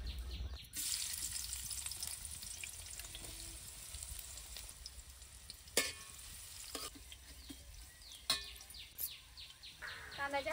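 Onion dropped into hot mustard oil on a wood-fired stove sizzles steadily for about ten seconds, with a few sharp clinks of a spoon or pan and occasional stirring bursts rising above the crackle.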